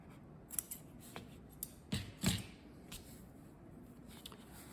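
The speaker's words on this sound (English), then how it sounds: "Then you cut the end." Scissors cut through the end of a neoprene can cooler in a quiet room, a handful of short, soft snips and crunches spaced irregularly, with no voices.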